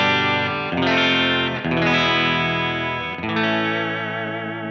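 Electric guitar played through a Keeley Hydra reverb and tremolo pedal on a clean spring reverb setting, sustained strummed chords ringing out with a smooth reverb tail, loud and alone with no talking.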